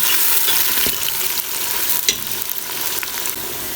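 Chopped onions frying and being stirred in a pan for a lentil dish, a bright sizzle with a spatula scraping and tossing at irregular moments, close and alone.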